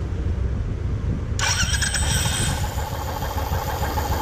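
Royal Enfield motorcycle cranked by its electric self-starter: a steady starter whir that catches into a loud, close engine note about a third of the way in, which then keeps running strongly to the end.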